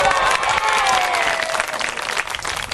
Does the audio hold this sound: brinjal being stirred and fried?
no